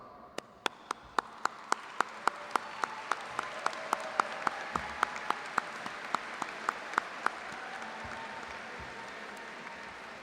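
Convocation crowd at a college campus ceremony applauding award recipients: a steady bed of audience clapping, with one nearby person's loud, evenly spaced claps standing out sharply in a regular rhythm over it.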